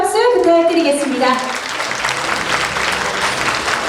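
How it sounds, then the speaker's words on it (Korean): A crowd at the opening of a Daegu education superintendent candidate's campaign office breaks into loud, sustained clapping, with a speaker's voice heard over the first second before the applause carries on alone. "다시 한번 뜨거운 응원의 박수 부탁드리겠습니다"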